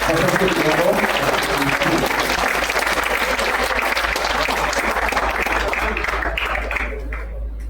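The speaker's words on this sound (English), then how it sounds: "So let's give them a loud applause to all our participants." Loud, sustained applause from an audience of students at a school quiz competition, with many hands clapping densely and close by, some voices mixed in, before the sound tapers off near the end.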